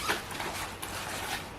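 A zipper runs along the compartment of a Ju-Ju-Be diaper bag, a soft, steady, hissy rasp close by that lasts a little over a second and has no talk over it.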